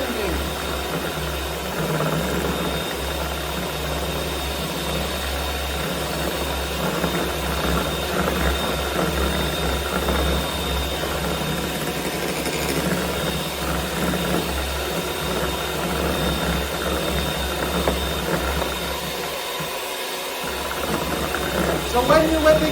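Electric hand mixer whipping cream for a French silk pie, a steady whirring motor drone that runs continuously at a constant level throughout.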